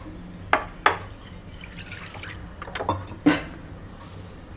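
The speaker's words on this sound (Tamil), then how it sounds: "கொஞ்சம் தண்ணி ஊற்றிக்கணும்." Water goes into a pressure cooker holding soaked moong dal and tomatoes, making several short, sharp splashes and drips at uneven intervals, close by, against a quiet background.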